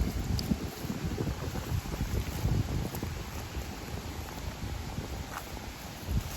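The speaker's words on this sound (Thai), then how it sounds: "ขออภัยกับความลม ลมแรงนะคะ ลมแรงมาก" Strong wind batters the microphone outdoors on a mushroom foraging walk, a continuous loud low rumble with gusty buffeting throughout and no talk.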